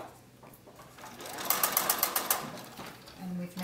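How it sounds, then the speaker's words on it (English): A sewing machine stitches along a fabric fold in a quick, even run of needle strokes lasting about a second, close and clear, with someone talking around it. "Put it under the sewing machine and just sew along the fold."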